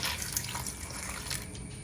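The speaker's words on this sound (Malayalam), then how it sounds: "നമുക്ക് വെള്ളം ഒഴിച്ചു കൊടുക്കും." Half a glass of water poured into a pressure cooker over cut pumpkin while making pumpkin payasam, a soft steady splashing trickle, close and quiet, with no talk.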